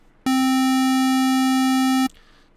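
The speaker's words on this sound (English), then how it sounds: "the square wave." A synthesizer square wave tone, a buzzy, hollow steady note held for nearly two seconds at constant loudness, starting and stopping abruptly, alone with no talk.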